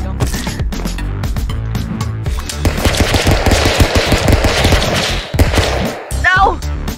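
Gunfire in the video game Stick Fight, loud rapid bursts of automatic shots layered over a dense game soundtrack, with a short break and a rising electronic sweep near the end.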